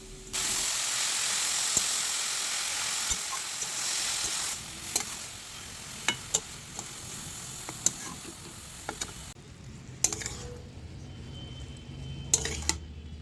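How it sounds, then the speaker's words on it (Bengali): Grated kohlrabi and potatoes sizzle in hot oil in a pan, a loud continuous hiss broken by scraping stirs and clicks of the spoon, the frying settling quieter toward the end. "ফুলকপিগুলো এবার আলুর সাথে ভালোভাবে মিশিয়ে তেলে ভেজে নিতে হবে"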